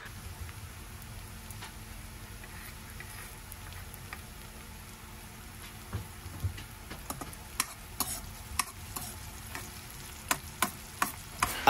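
Garlic, onion and chili sauté in hot oil in a pan, giving a steady low sizzle with occasional stirring clicks and scrapes toward the end, no talking.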